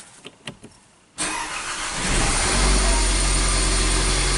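Mercedes car engine starting up after a few faint clicks, a sudden crank that catches and settles into a steady, rising close idle.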